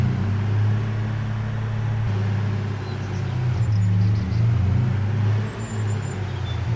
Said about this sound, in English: I've got a feeling my truck makes a bit too much noise.